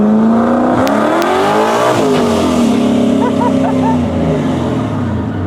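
A 900-horsepower stick-shift Mustang Cobra with a swapped Coyote engine revs loudly and close by, its pitch climbing and then falling through the rev, with a deep, steady roar throughout.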